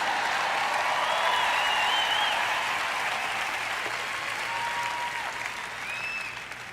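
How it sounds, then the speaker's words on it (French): An audience applauds throughout, a dense steady wash of clapping from a large crowd that tapers slightly toward the end. "vous feriez donc aussi bien de m'applaudir"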